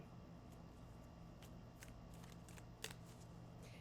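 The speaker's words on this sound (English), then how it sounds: "So grab your deck, give it a shuffle" Cards being shuffled quietly, a few short riffling bursts and light flicks scattered over a low background hum.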